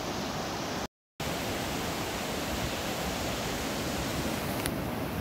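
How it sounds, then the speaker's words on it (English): Ocean waves washing onto a beach on an overcast day, a steady dense roar of surf that fills the whole stretch, broken by one brief gap of silence. "you can enjoy the sounds of the waves, which is going to be the most calming sound you're ever going to hear"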